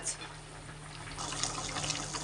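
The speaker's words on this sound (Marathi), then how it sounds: "मस्त कालवणाला उकळ येत आहे" Potato and pea curry comes to a boil in a pot, giving soft, steady bubbling and liquid gurgles at close range, growing a little busier partway through, with no voices.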